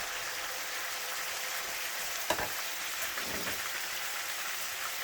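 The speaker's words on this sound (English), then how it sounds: "We turn on the heat to maximum. We fry it for about 30 seconds." Steady, even sizzling of food frying in a pan over maximum heat, with a brief clatter partway through and no voices.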